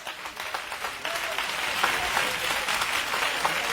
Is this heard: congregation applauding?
yes